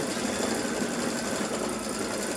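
A sewing machine stitches a decorative scroll pattern in a steady, continuous close whir that runs the whole time, with no talk.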